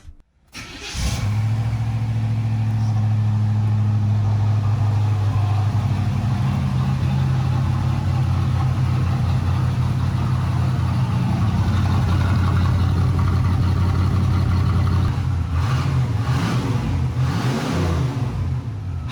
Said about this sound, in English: What's a muffler replacement if we didn't start the car without the muffler?